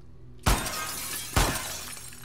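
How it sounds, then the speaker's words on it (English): Two loud glass smashes, about a second apart, as a window is broken in the video game The Last of Us Part II, each burst ringing out briefly with no talk over it. "You've smashed the wrong bit of glass."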